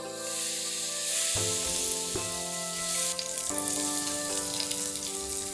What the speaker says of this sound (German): Heißes Öl in die Mischung geben.